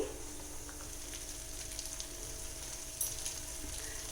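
Chicken and masala paste frying in a pan for gongura chicken pickle, a soft, steady sizzle that stays even throughout with a faint stir-like rise near the end, no talking.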